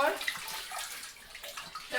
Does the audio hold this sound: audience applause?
no